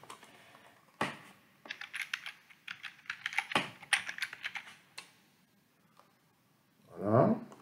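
Someone types code on a computer keyboard, rapid uneven bursts of key clicks with brief pauses and one louder thump, close and clear, with no voices.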